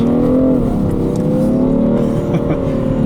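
A 2017 BMW 335d M Sport with xDrive is floored on a wet road, its engine droning loud and steady from inside the cabin, the pitch climbing gently under the rush of road noise.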